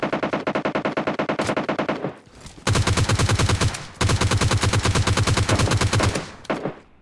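G36 assault rifle fire in the battle royale game PUBG Lite: loud, rapid automatic bursts of sharp cracks, a long string, a short pause, then two more sustained volleys and a final brief burst, with no talking.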